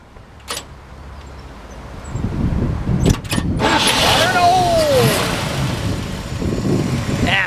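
Engine of a 1952 Chevrolet 3100 pickup with a 12-volt conversion cranking and catching, then settling into a rough idle, close by with some background voices.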